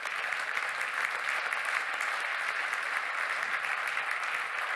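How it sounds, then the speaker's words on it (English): Sustained, steady applause from a conference audience at an agriculture and food forum, dense clapping filling the room without a break and no talk over it. "So a very warm round of applause for my speakers."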